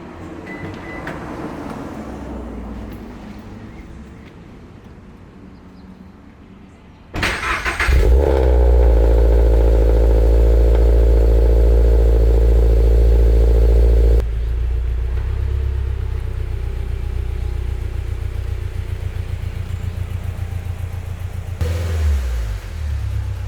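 A Toyota GR86 engine rumbles close by, jumping to a loud, steady idle before settling into a lower hum as the car pulls into a garage; no voices.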